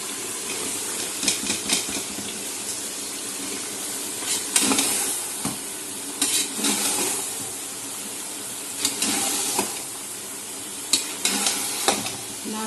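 Cauliflower florets being fried and stirred into a cooked-down spiced tomato masala for aloo gobi, with a continuous sizzle and irregular scraping bursts of a spoon through the pan, close and moderately loud.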